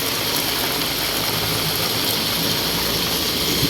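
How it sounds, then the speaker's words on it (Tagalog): Heavy monsoon rain during a typhoon season downpour, an unbroken loud roaring wash that stays constant throughout, with no talking. "walang humpay ang buhos ng ulan"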